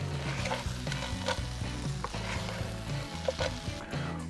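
A vegetable dish with fresh foraged thyme stirred in a pan, a utensil scraping and knocking rhythmically over a steady sizzle, close and clear with no talk.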